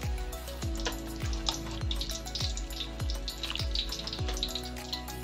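Pansit guisado with pork and shrimp being stirred in a pan, a steady sizzle with liquid bubbling and soft scraping, over a low rhythmic thumping background beat at roughly even intervals, with no talking.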